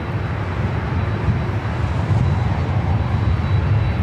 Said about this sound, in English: The Delta 767-400ER heading over here for a takeoff on 24 left